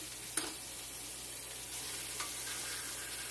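Pork chops fry in a pan with a steady, even sizzle throughout, broken by a sharp clatter near the start and a few faint scrapes and clinks of utensils. Nobody talks.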